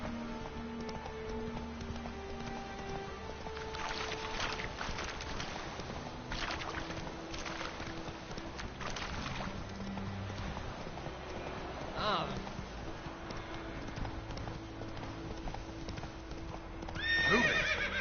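The horse Roach in The Witcher gameplay trots with steady clip-clop hoofbeats throughout and neighs near the end, with game music and ambience underneath and occasional speech.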